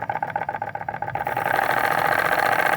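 A model plant engine in a workshop runs steadily for its whole length, a close, rapid mechanical chatter that starts with a distinct pulsing beat and then smooths into a louder continuous hum.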